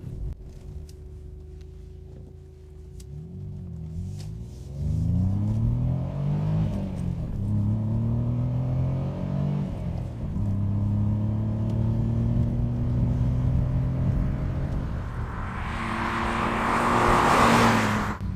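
A 1990 Ford Sierra 4x4, also sold as the Merkur XR4ti, accelerates hard through the gears; its engine note climbs and drops at each shift, loud and close, ending in a rushing roar.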